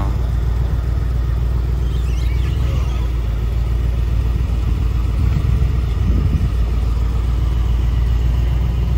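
A vintage Lamborghini Gallardo Spider passes on a street in Monaco, its engine a steady, loud low rumble throughout with a slight swell near the end, and no talk.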